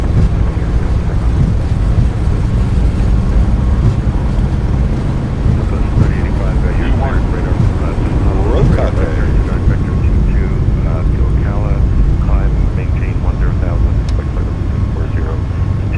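Boeing 737 MAX 8 engines spooling at takeoff power in a flight simulator, a loud steady roar that fills the cockpit with voices talking over it.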